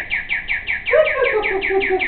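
A small bird chirps in a quick, evenly spaced series of bright tweets, close by, with a softer warbling call joining partway through.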